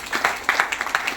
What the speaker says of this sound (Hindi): ताली होना चाहिए।